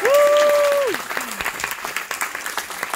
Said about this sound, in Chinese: 好啦，也是要给他掌声